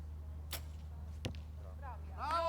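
Arrows strike a target at a compound under-18 mixed team archery gold match, two sharp thuds about three-quarters of a second apart over a steady hum, followed by faint crowd voices.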